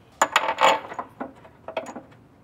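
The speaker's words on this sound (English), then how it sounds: "I'm gonna throw the subframe bolts back in" Subframe bolts go back into a Subaru STI with a quick series of sharp metallic clinks and rattles, a cluster of hits followed by a few lighter taps, close and clear.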